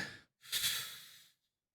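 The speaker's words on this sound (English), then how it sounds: "He's actually just calmly and slowly breathing in and out." A person breathing calmly and slowly, a short exhale, a pause, then a longer soft breath drawn and released, close and quiet.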